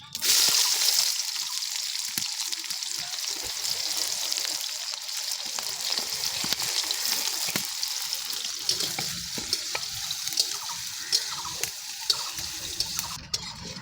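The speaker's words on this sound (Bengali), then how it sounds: "প্রথমে দিয়ে দিচ্ছি গোটা জিরে, শুকনো লঙ্কা, তেজপাতা, দিয়ে দিচ্ছি পেঁয়াজ" Whole cumin, dried red chillies, bay leaf and onion frying in hot oil, a loud, steady, close sizzle that hisses continuously throughout with occasional stirring scrapes.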